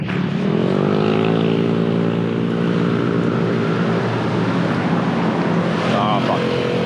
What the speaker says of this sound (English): That motorbike is too slow